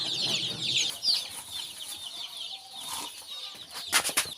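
Young chicks in a cage peep and chirp steadily while being fed, a dense chorus of bright calls with a few sharper cheeps near the end.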